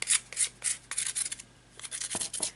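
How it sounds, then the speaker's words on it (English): Sandpaper rubbing the edges of a dried clay pendant in repeated short scratchy strokes, close and fairly clear, with a brief pause midway. "use the sandpaper to make sure the edges are all smooth"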